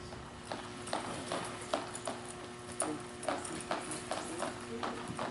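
A horse's hooves clip-clop at a steady walking rhythm, soft and a little distant, over a low background hum with some faint voices.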